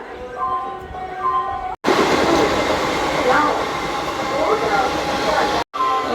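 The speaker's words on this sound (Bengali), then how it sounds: "ওই যে ট্রেন আসছে।" The Sealdah–Shantipur local train rolls into a station with a loud, rumbling roar and rattling wheels, close by. A voice is heard briefly at the start over the station noise.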